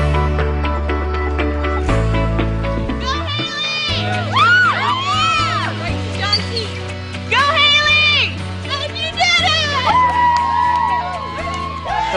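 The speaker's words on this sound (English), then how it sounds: "it was nice that all the students were cheering for me" Students shout and cheer for a girl running a timed school mile, with loud excited voices rising and falling over a busy, bustling background throughout.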